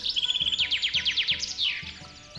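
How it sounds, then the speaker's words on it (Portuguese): A single bird sings at dawn, giving a close, clear series of rapid rising chirps that slow into longer whistled sweeps, over faint low rhythmic background music. "O primeiro pássaro canta."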